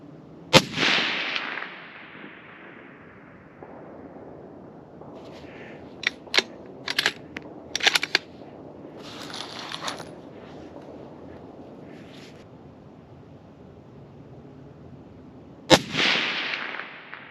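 Two sharp, loud precision rifle shots fired with Super X ammunition at a range, one near the start and one near the end, each ringing out into a long decaying echo, with scattered faint clicks and handling noises between them.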